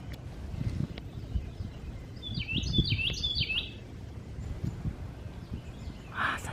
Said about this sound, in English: I just love the sound of the birds.